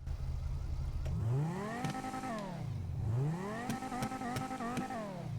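A Bravado Banshee sports car in GTA Online revs twice in a row, the engine climbing in pitch from a low idle and dropping back each time, loud and close, with a few clicks over it and no voices.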